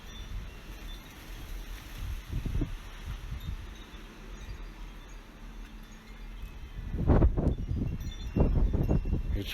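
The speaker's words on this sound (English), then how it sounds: "It's windy as." Strong wind buffets the microphone while a Mavic Mini drone is flown in high winds outdoors, a steady low rumble broken by louder gusts and thumps toward the end.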